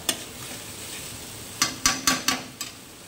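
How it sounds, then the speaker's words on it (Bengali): Spiced rita fish curry fries in a pan. A soft sizzle runs throughout, and a spoon scrapes against the pan in a quick cluster of four or five clinks near the end. "মশলা ভাজা হয়ে গেছে"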